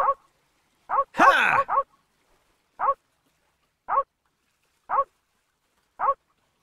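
Poodles in a video game give a series of short, evenly spaced barks, about one per second, with a longer whining, whimpering cry near the start; close and clear with no background.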